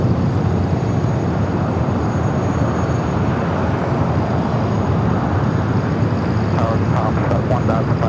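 A Singapore Airlines Airbus A350-900 taxis at Los Angeles airport, giving a steady, heavy engine rumble throughout, with faint clicking near the end.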